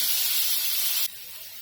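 Chopped onion hitting hot oil and butter in a kadai, a steady loud hiss that drops abruptly to a softer sizzle partway through.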